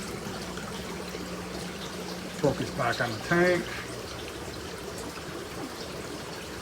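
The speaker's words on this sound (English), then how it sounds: "well, that's a little bit more than a drip." Water trickles steadily into a fish acclimation bag or container in a home aquarium setup for albino bristlenose plecos, a soft continuous flow heard close by, with a person speaking briefly over it.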